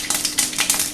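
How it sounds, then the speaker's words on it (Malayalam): Mustard seeds hit hot oil in a kadai, giving a brief, close burst of sizzling with rapid crackling pops over under a second. "എണ്ണ ചൂടായി കഴിഞ്ഞ് കടുകിടുക."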